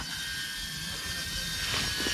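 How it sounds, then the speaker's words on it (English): Mobula 6 HD tiny FPV drone flying outdoors in a forest, a steady high-pitched motor whine with a sustained tone that holds throughout at moderate loudness. "No way you can make a dive with this drone."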